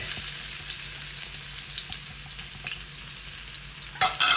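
Garlic drops into hot oil in a pan and fries with a dense, steady sizzle, close and fairly loud, with a few faint stirring taps and a brighter crackle near the end.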